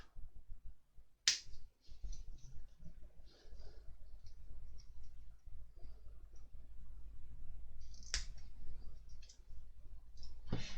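Plastic model part for a Terminator kit clipped off its sprue, a couple of sharp snaps standing out over a quiet room with faint small handling clicks.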